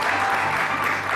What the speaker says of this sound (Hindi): आपकी तालियां बताइए।